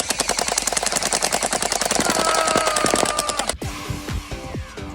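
A toy gel blaster fires in rapid fire mode, a fast, even stream of sharp clicks that runs for over three seconds before stopping, followed by scattered clatter.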